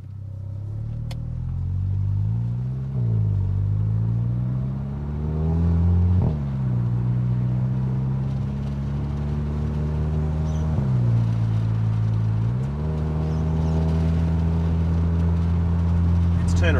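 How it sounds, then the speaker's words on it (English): Exhaust of a VW Eos 2.0 TSI accelerating at a normal pace from a standstill to about 70 km/h, engine note rising through several gear changes with distinct dips between shifts, steady and close. "Normally first, just 0 to 60 to 70 kilometers an hour at a normal speed."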